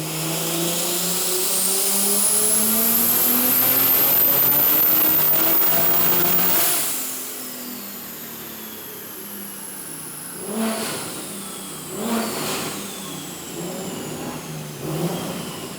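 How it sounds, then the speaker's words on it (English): Single-turbo BMW G80 M3 making a fifth-gear dyno pull, a loud rising engine roar climbing steadily for about six seconds with a turbo whine, then dropping off to a lower idle with a few short revs. "We're gonna do a 5th gear pull on the dyno in map 3 and see what it does."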